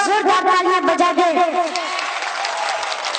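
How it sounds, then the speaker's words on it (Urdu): A large gathered crowd at a recitation event breaks into loud applause; a voice rings out over the clapping at first before dense, steady clapping takes over. "میں چاہتا ہوں کہ آگے سے لے کر پیچھے تک پورا مجمع ایک بار زوردار تالیاں بجا دے"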